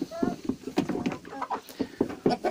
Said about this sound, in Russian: Вот так они мои кушают,